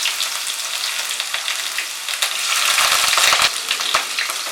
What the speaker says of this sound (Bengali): তেল গরম হলে এর মধ্যে আমি দিচ্ছি কুচানো পেঁয়াজ